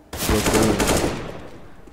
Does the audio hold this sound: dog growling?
no